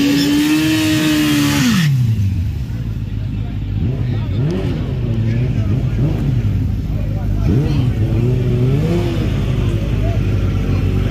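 A drag racing car at a dragway, revving loudly and rising in pitch before dropping away, then a rough, fluctuating engine burble continues close by, with people talking over it.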